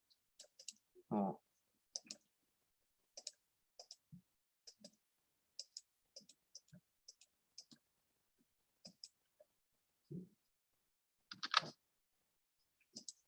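A computer mouse double-clicks and the Enter key is pressed during a programming session, giving sparse, sharp, close clicks and taps with a couple of brief low murmurs in between.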